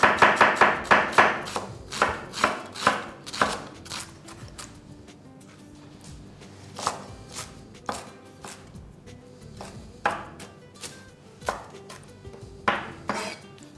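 A knife mincing cabbage for coleslaw on a board, a rapid burst of close, crisp chops at first, then slower irregular strokes with pauses, loud and alone.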